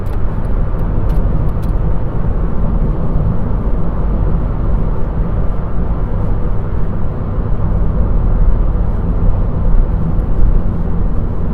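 A car travels at speed and pulls out to overtake a slower vehicle on a driving-test route. Loud, steady engine and road roar continues unbroken throughout.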